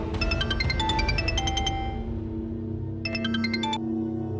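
A melodic electronic phone ringtone plays twice, a quick run of chiming tones, a short pause, then the tune starts again, loud and close.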